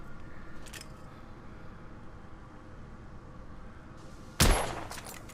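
A single sharp gunshot from a period firearm in The Order: 1886, set in alternate Victorian London, bursts loud near the end of a steady low background hum, with a brief decaying tail.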